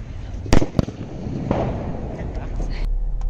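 Sharp, loud firecracker bangs burst nearby during Diwali, a few sudden cracks spaced apart over a murmur of background noise and distant voices.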